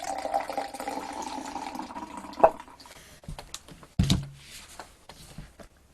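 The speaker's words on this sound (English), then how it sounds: "Pour myself a coffee." Coffee poured into a cup, a short trickling, filling gurgle at the start, then a couple of sharp knocks and a thud as the cup and pot are set down, quiet and close.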